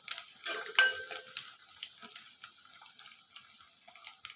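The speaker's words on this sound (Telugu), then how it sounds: "ఇప్పుడు ఆనియన్స్ అయితే మంచిగా మనము రెడ్డిష్ కలర్ వచ్చే వరకు మంచిగా ఫ్రై చేసుకోవాలి." Onions fry quietly in a pan, with a soft, continuous sizzle broken by a few light clinks and stirring scrapes near the start.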